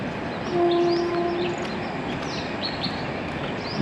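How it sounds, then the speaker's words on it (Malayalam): A train rumbles past nearby with a steady rolling roar, a short horn tone early on, and birds chirping faintly over it. "ട്രെയിനിൻ്റെ സൗണ്ടാണ് കേൾക്കുന്നത്"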